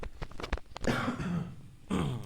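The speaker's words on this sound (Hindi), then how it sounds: "आज बहुत खांसी आ रही है।" A man coughs and clears his throat in a few harsh, raspy bursts, close to the microphone, with short gaps between them.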